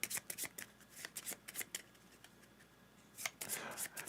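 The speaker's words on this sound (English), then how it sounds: "So what we're going to do here is I will shuffle these up." A deck of objective cards for a solo board game is shuffled by hand, giving a series of close, crisp riffling bursts with brief pauses, then a fuller riffle near the end.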